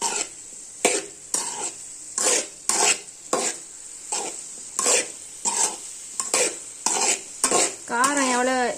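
A ground roasted chili paste is stirred into a pumpkin stir fry in a pan, producing rhythmic bursts of scraping and clattering at close range over a continuous sizzle, with a short vocal sound near the end.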